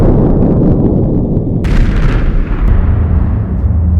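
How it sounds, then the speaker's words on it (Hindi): A deep, rumbling explosion with a sharp burst partway through, booming loudly and rolling on as a low, heavy roar. "उसके अंदर एक विशालकाय विस्फोट हुआ"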